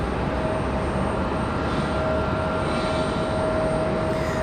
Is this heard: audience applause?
no